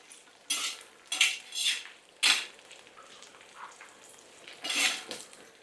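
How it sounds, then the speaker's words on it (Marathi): Dried coconut is dry-roasted in a pan over medium heat and stirred in bursts of close spatula scraping and clatter over a faint background sizzle. "आपल्याला हे सुकं खोबरं पण टाकायचंय आणि मीडियम गॅस करून ना आपल्याला हे चांगलं असं भाजून घ्यायचंय"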